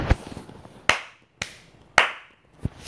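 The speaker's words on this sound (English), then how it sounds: "Clap hands." Hand claps during Splix.io game play, five sharp separate claps spaced irregularly about half a second apart, crisp and fairly close, over a quiet background with no talking.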